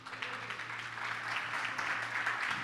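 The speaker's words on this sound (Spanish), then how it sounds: "Démosle un fuerte aplauso a mi Señor." A church congregation applauds in a steady, dense wash of clapping that holds throughout, with a low hum underneath and no talk.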